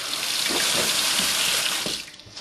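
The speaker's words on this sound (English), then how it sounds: "You just run it under some hot water." Hot tap water runs steadily over metal parts of a handmade Freddy Krueger-style knife glove being aged, a close, continuous hiss and splash that eases off near the end.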